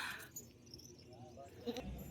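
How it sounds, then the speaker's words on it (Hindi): Goat bleating at a crowded goat market, faint and brief cries amid background chatter and ambient noise, with people talking nearby. "और ये देखिए ये हमारी बकरी"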